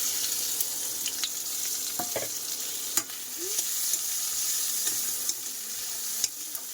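Fish swim bladder, chopped onion and green chilli fry in a pan with a steady hiss and scattered small pops and crackles, fairly close, with no talking.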